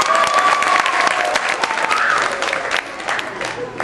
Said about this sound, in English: Another round of applause for these young people and their courage.